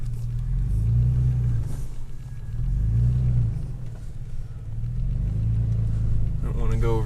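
Toyota FJ Cruiser in four-wheel drive on a forest road, a low engine rumble that swells and eases in repeated waves as it climbs, with someone talking over it.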